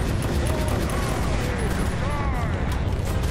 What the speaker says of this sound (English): Oh shit, they're shooting at me.